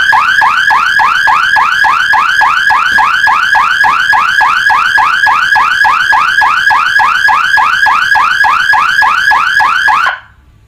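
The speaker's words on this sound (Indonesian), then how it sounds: "pasti alarmnya akan bunyi ya" A new motion-sensor alarm siren sounds loud and close for about ten seconds, a rapid steady warble of identical repeating chirps before it cuts off abruptly.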